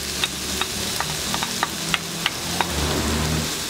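Chopped onion and sweet green chili stirred in a sizzling pan while cooking drunken beans, with a steady fry hiss and spoon scrapes and clicks landing every half second or so, no talking.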